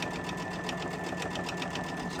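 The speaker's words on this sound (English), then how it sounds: "I'll just start sewing it right down here" A sewing machine stitching quilt binding runs steadily, a fast, even mechanical whir with rapid needle clatter, close up and without talk.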